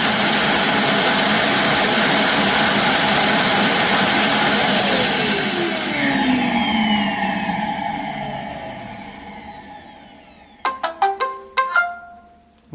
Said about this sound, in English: that noise you just heard was the vacuum, this big base right here, sucking up all the dirt out of the bin.